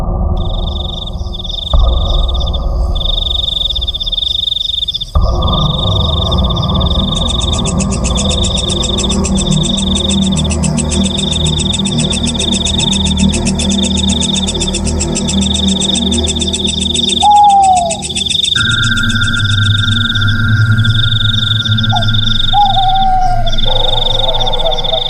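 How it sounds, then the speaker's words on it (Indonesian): Crickets chirp at night in a rhythmic, pulsing high-pitched chorus that continues steadily, layered over a low background drone with occasional brief whistling calls. "Suara jangkrik terdengar riuh bersautan, menandakan kalau hari kini sudah berganti malam."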